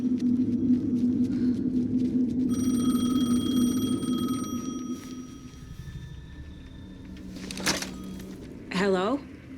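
A payphone rings in Alan Wake 2, its repeated electronic bell tones sounding in the middle of the clip after a stretch of voice, with a few sharp clicks and a short rising electronic sweep at the end.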